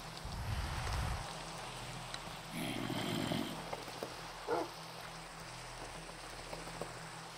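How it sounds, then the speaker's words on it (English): Steady rain patters in the video game Minecraft, a soft continuous hiss with a few low rumbling bursts and brief thuds, moderately faint and without talk. "That's very cold rain."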